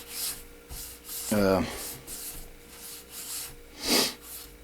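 A knife handle is sanded by hand in a series of dry, rasping rubs at an irregular pace, fairly quiet and close, with a brief voiced sound partway through.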